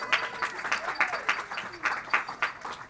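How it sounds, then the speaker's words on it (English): Audience clapping at an economic outlook event, a sparse, fairly rhythmic run of claps in a large room, moderately quiet, with some voices underneath. "You can clap again."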